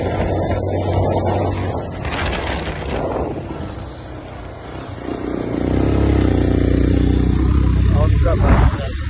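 A motorcycle rides along a road, its engine droning steadily under heavy wind rush, rising in revs toward the end, with a rider's voice speaking over it.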